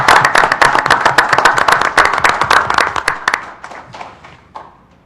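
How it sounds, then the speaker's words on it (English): Applause from a township meeting audience, a burst of loud clapping hands that thins out and fades to a few scattered claps over about five seconds. "I think they deserve a round of applause."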